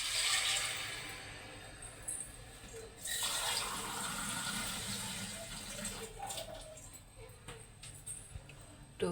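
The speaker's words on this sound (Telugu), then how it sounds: "వాటర్ మాత్రం దీని నిండా 2 గ్లాసెస్ అయితే పోసుకుంటాను" Water is poured steadily over washed rice in a pot for biryani, a continuous splashing gush that gradually settles, close by in a home kitchen.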